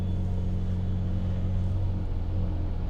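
A BYD M6 car engine warms up with its turbo running, giving a steady, close, low rumble with no voices.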